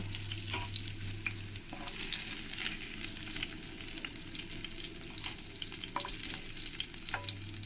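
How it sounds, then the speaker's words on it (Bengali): Paneer pieces fry in hot oil in a pan until reddish-brown for a banana-flower paneer dish. A steady close sizzle runs throughout, with scattered light clicks of stirring and no talking. "আমি বেশ লাল লাল করেই পনিরগুলো ভেজে নেব"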